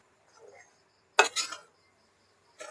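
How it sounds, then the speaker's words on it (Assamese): A spoon scrapes and clinks against a pan while milk and semolina (suji) are mixed for suji laru, two quick metallic strokes then another after a pause, close and clear with no talking. "এতিয়া গাখীৰ আৰু চুজি এইখিনি ধুনীয়াকৈ মিক্স কৰি ল'ম।"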